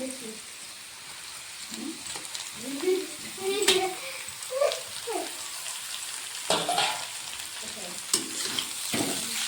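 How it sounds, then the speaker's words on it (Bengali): Cabbage stir-fried in a pan with lightly fried peas, beans, onion and carrot for vegetable chow mein, giving a soft steady sizzle broken by scraping stirs, with some quiet speech over it. "বাঁধাকপি দিয়ে দিয়েছি। বাঁধাকপির সঙ্গে হালকা কষিয়ে নেব।"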